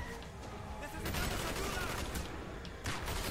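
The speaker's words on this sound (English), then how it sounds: "Who's shooting me?" Rapid gunfire in the Call of Duty Black Ops video game, dense bursts of shots rattling on continuously at moderate loudness.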